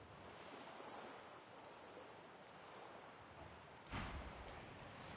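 Gently lapping waves at Fort Joy in Divinity Original Sin 2 make a soft, continuous wash of surf, faint and even, broken by one brief louder splash-like burst near the end.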